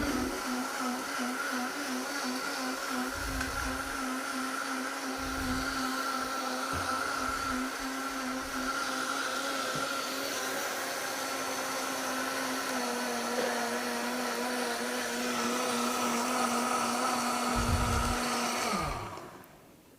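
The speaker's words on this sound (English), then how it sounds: "once you have the grains ground, because they take more grinding than the oats" A countertop grain mill or blender grinds soaked grains for waffles, a loud steady motor drone with a sustained whine running almost twenty seconds, then cutting off abruptly near the end.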